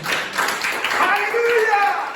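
Congregation applauding together in a church service, a steady wash of clapping with voices mixed in, fairly close and moderately loud throughout.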